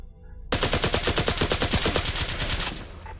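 Rapid automatic gunfire in the Larcenauts VR game, a dense burst of about two seconds of evenly spaced shots starting abruptly after a short quiet moment.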